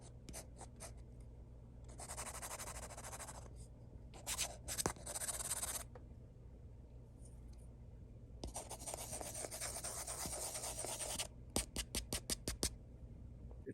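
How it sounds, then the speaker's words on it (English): A Samsung Galaxy Tab S8/S9 stylus nib drags across a paper-feel screen protector in quiet, close bursts of dry scratchy friction. The strokes come in longer stretches, and a run of short quick taps is heard near the end. "This nib against this paper feeling screen protector specifically is more akin to like a calligraphy pen or a fountain pen against construction paper"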